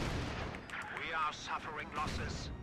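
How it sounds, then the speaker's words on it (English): Artillery fire in the WWII strategy game Company of Heroes 2 lands as a series of muffled booms and crackling impacts under a fast-talking caster's commentary. "Artillery's hitting the left-hand side"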